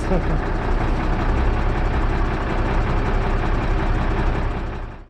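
A truck engine runs steadily with a worn, noisy compressor belt, a constant loud broadband drone holding for several seconds before cutting off abruptly at the end.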